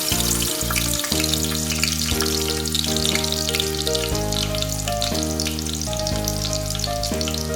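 Garlic drops into hot oil in a kadai on a gas stove and sizzles with a steady, even crackle. It holds for several seconds alongside a constant tonal background.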